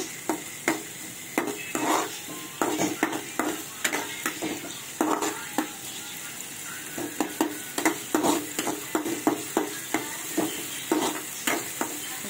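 Masala oats being stirred and roasted in a pan produce a soft background sizzle with repeated, rhythmic scraping strokes of a spoon against the pan, close and moderately loud, no talking.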